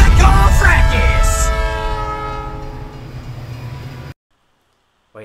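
A train in the Batman: Gotham City Racer video game sounds a loud horn blast with sustained tones that fade over a few seconds, then cuts to near silence.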